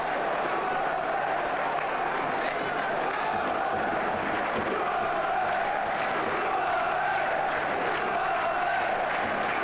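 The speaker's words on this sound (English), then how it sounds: "And the crowd are off their feet" Crowd noise at a Blackburn Rovers versus Bristol City football match, a steady distant roar of thousands of fans rising and swelling throughout.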